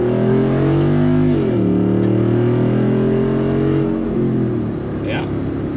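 A 2021 Jeep Wrangler Rubicon 392 V8 pulls hard from about 25 mph, its loud deep engine note climbing steadily in pitch, dipping once at a gear change, then easing off, heard from inside the cabin.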